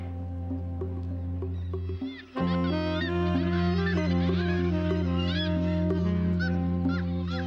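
Kittiwakes calling at a nesting colony on an old Gateshead warehouse in the city centre, many overlapping shrill, nasal cries rising and falling continuously over a steady low urban hum.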